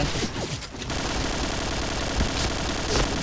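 Rapid bursts of gunfire from an NC2016 gun in a shooting game, dense and continuous after a brief gap near the start, loud and sustained with no talk.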